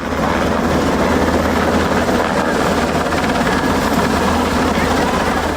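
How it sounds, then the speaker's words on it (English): A Kentucky Army National Guard Black Hawk helicopter lands at a school campus, its rotor and engine roar steady, loud and close for several seconds with nothing else standing out. "The Kentucky Army National Guard landed a Black Hawk helicopter at the Academy at Shawnee."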